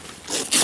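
A zipper on a five-in-one inflatable bounce house combo is pulled shut in two quick, close, raspy strokes, the second louder than the first.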